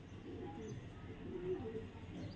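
Pigeons kept by a pigeon fancier in a loft coo softly and continuously, low and murmuring with faint chirps, at close range; no clear speech.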